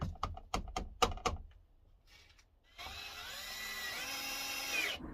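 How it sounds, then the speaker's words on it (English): Drill driving small self-tapping metal screws into a campervan body: a few sharp taps and clicks at first, then a steady, loud whirring drill run lasting several seconds before stopping abruptly. "Little self-tapping metal screws are going to do the job just right now"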